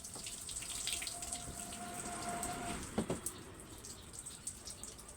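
Weak stream of water from a garden hose running while a car is washed at home, a soft steady splashing trickle with a few brief knocks, faint and with no voices.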